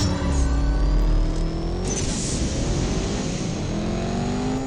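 Alpine A110 engine revving hard in a CSR2 drag race, with rising harmonic whine as it accelerates through gears, loud and continuous with a brief shift around the midpoint.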